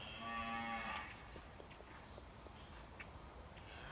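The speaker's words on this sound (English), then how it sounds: "Cows are making all kinds of noise." A cow lets out a loud, close moo at the start on a country farm on a noisy morning, followed by soft shuffling and clopping sounds of livestock moving about.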